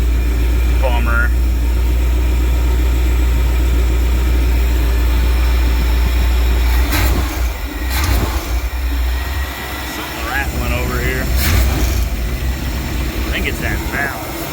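The engine of a 1979 Chevy G20 van idles steadily and loudly up close with a deep rumble, while people talk over it.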